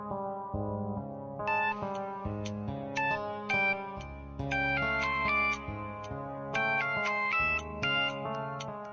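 A phone rings with an incoming video call, a bright melodic ringtone that plays repeated tonal phrases throughout, loud and clear with no voices.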